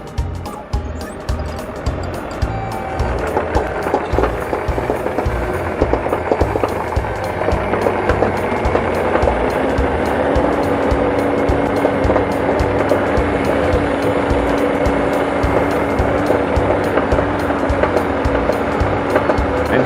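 A Bobcat E42 compact excavator driving, a loud close rumbling engine with steady track clatter and rattling that builds and holds steady, no voices over it.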